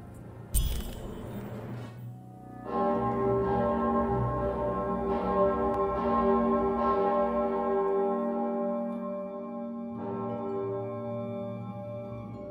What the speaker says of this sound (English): which one of you pranksters rang the bell?